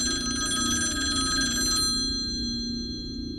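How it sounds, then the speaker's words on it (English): A telephone bell rings loudly with a bright metallic trill for almost two seconds, then stops, leaving a steady low hum underneath. "the phone rang"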